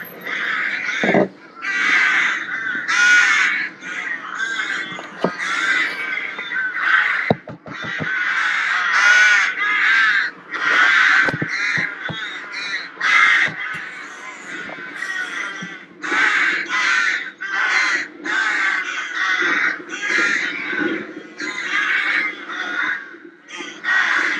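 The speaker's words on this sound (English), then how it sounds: "Just overhead now we have a rookery and many crows." Many crows caw repeatedly overhead at a rookery, harsh calls overlapping in irregular bursts, loud and continuous with no talking.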